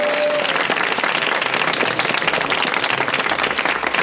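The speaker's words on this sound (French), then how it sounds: "On les applaudit encore une fois" Sustained, loud applause from a live studio audience, dense clapping filling the whole stretch without a break, with a faint voice tone briefly at the start.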